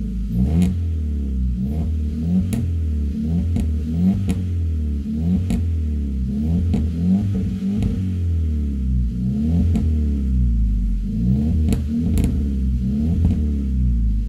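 A Kia Veloster four-cylinder engine with a full, opened-up exhaust system revs steadily and loudly for the whole stretch, giving a deep, throbbing drone with rhythmic pulses and a clattery edge.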